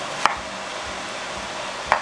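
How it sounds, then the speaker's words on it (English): Scallions are cut into big chunks on a board, two sharp knife strikes spaced well apart over a faint quiet background, close and crisp, with no voices. "Now we're just going to chop them in nice big chunks"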